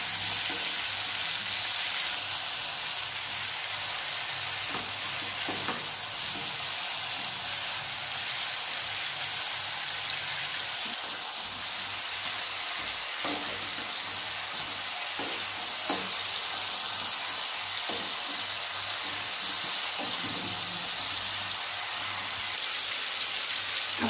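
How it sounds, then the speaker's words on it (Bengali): Mixed vegetables seasoned with salt and turmeric sizzle steadily in a pan, a continuous hissing fry broken by occasional soft stirring scrapes, close and even throughout with no voices. "দিয়ে এটা ভালো করে এখন নাড়তে হবে।"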